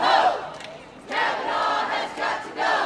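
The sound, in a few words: protest crowd gathered at Hamilton County Courthouse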